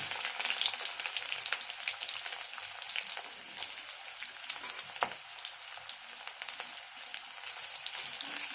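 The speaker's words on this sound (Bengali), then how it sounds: "লঙ্কাটা পাঁচ ফোড়নটা ভাজা হলে তারপরে একটু পেঁয়াজ দেবো এরকম পেঁয়াজ দিয়ে দেবো" Onions fry in hot oil with panch phoron and dried chilli, a close, steady crackling sizzle with occasional pops and light stirring, no voices.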